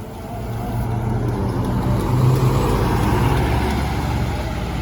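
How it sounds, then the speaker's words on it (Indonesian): A truck engine idles smoothly and steadily. The low, even rumble stays loud and close for the whole stretch, with no talk over it. "Halus suara mesinnya, cok."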